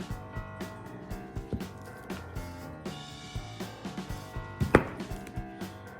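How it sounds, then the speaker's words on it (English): A knife slicing a block of cheese into burger slices, giving a steady series of soft, close cutting taps and thuds at a regular rhythm, with one sharper knock near the end and no talk. "I'm just gonna slice off 12 slices of cheese"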